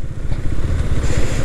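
A motorcycle ridden on the road to Yarada beach, its engine rumbling close with a pulsing low throb and steady wind rush, alone without talk.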